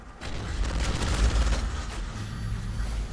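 Gunfire in the Call of Duty Modern Warfare 3 video game: a dense, continuous barrage of shots and booms that stays loud throughout, with no voices over it.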